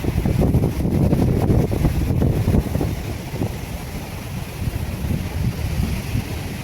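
Big sea waves surge around boats under gusting wind, a loud, constant roar of rushing water and buffeting wind noise with no talking.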